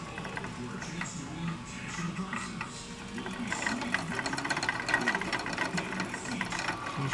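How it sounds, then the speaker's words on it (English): A pet hamster runs on an exercise wheel, making a faint, steady, rapid whirring and clicking that builds slightly partway through. "Now she's doing her exercise wheel thingy."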